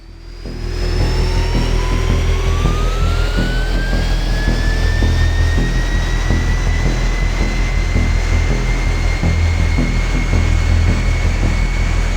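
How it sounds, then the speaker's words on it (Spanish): Boeing 747 jet engines spool up for a takeoff run from Sydney, a loud steady roar with a rising whine climbing in pitch over a constant low rumble, close and continuous without voices. "los motores aumentan de potencia y el gigantesco avión inicia su carrera de despegue"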